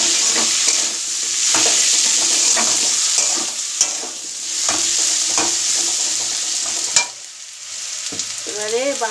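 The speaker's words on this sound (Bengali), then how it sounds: "হলুদ দিয়েছি, লঙ্কা গুঁড়ো, জিরে গুঁড়ো, নুন, হলুদ, নুন, চিনি দিয়ে ভালো করে কষতে নিচ্ছি" Turmeric, chilli powder, cumin powder, salt and sugar sauté in a pan with a loud continuous sizzle, while a spoon scrapes and taps repeatedly in irregular strokes, close by.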